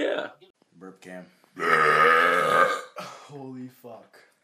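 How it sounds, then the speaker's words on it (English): Loud, drawn-out belching from a person, with a long sustained burp in the middle and shorter throaty bursts before and after. "Burp cam. Round 2."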